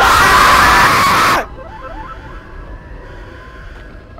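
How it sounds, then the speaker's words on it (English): Loud, harsh screaming from players in the Rec Room video game fills the first second and a half, then cuts off abruptly to a low background murmur. "It's just a bunch of loud screaming"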